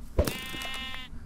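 A single sheep in a video game lets out a short, clear bleat after a soft thump, heard alone and fairly faint.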